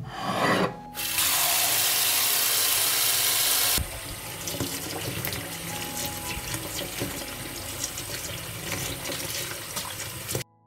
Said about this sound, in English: I'll wash the blueberries first.